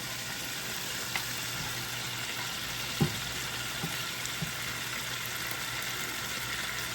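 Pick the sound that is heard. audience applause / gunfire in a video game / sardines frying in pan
sardines frying in pan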